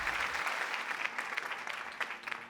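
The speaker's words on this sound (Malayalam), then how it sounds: "വെരി ഗുഡ്, നല്ലൊരു കൈയടി" Audience applause on a Malayalam TV show after a poem is recited, a steady dense wash of clapping hands lasting a couple of seconds, moderately loud and without voices over it.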